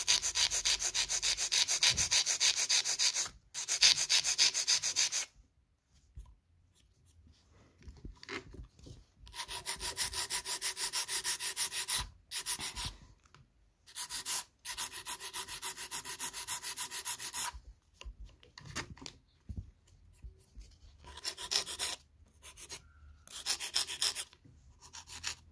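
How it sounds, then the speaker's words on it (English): Steady dry rasping of a file shaping an artificial nail tip, in long rhythmic bursts of back-and-forth strokes broken by short pauses, close and fairly loud with no talking. "when I was filing, I was missing this end bit"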